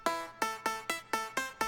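Short Brazilian phonk sample processed with reverb, saturation, compression and EQ, heard as a repeating pattern of sharp hits with bright smeared tails, loud and alone.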